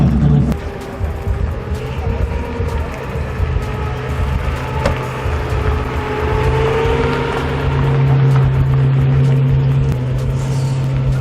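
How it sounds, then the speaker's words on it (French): A classic Bugatti Type 57 S pulls past at a concours d'elegance at Chantilly, its engine a loud, steady drone that swells gradually amid crowd noise and faint voices. "Là, je suis en train de courir après la Bugatti Type 57 S7 Antique."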